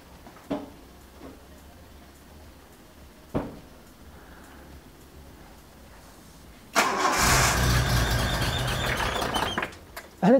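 A home-built Datsun 240Z fitted with a 123 distributor cranks over and fires into a loud, steady idle that runs for several seconds after a few quieter clicks and clunks.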